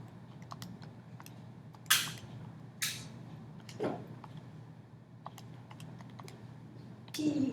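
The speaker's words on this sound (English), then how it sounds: "When we type that in our calculator" Keys on a calculator keypad are tapped in quick, irregular clicks, several sharper presses standing out against a quiet room hum, with no voice over them.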